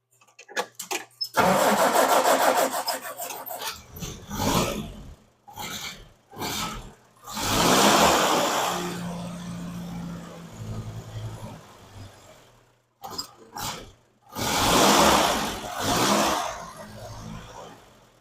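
A restored classic vehicle's engine cranks and fires several times, catching and revving loudly in bursts before settling into a steady run, with short pauses between attempts and no talk.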